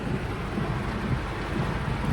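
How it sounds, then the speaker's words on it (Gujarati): Steady, dense downpour hissing without a break, with a low rumble underneath; loud and close throughout. "એ ફૂલ વરસાદ છે"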